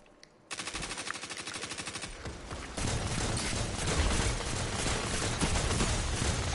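Scout rifle gunfire during a Destiny 2 multiplayer zone-capture match on PlayStation 5: a rapid, steady train of loud shots that swells into a denser, roaring barrage of overlapping fire.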